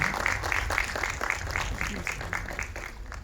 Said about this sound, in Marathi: एकदा जोरदार टाळ्या दोघांसाठी